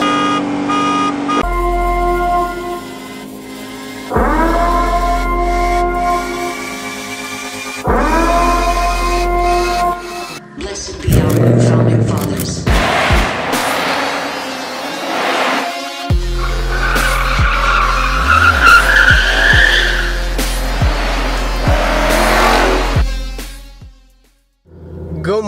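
Stock Ford Mustang S650s street racing: loud engines rev and climb through gears, then tires squeal hard and the engine roars, all close and sustained with no talk over it.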